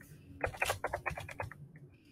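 A computer keyboard is typed on while coding in RStudio, a close, quick, irregular run of a dozen or so crisp keystrokes that stops after a second and a half.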